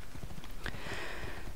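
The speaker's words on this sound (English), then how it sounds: "We'll take this horse. Come on, horsey. Ride, my friend, ride." Horse hooves clip-clop on the ground in Assassin's Creed II, a quick steady run of muffled thuds under a constant game soundscape.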